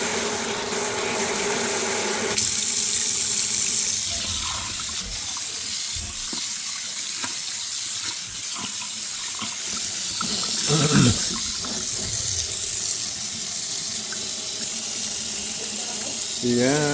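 Hot water running from a newly installed faucet, a strong, steady splashing stream into a sink that continues loudly for the whole stretch.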